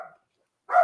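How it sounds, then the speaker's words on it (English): An indoor dog gives two short barks separated by a brief silence, the second louder and nearer, with no speech around them. "My dog wants to be on the podcast too."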